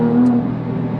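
A Porsche 991 GT3 RS getting under way, its engine giving a brief, steady low hum that eases slightly partway through the short moment.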